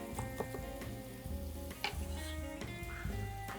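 Thin slices of garlic fry in a pan as a base for red sauce, a steady soft sizzle with light stirring clicks, no voices.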